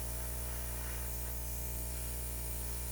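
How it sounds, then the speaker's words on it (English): An airbrush sprays paint in a steady, close, even hiss that runs unbroken from start to finish, with no voices over it. "so let's go ahead and airbrush this out"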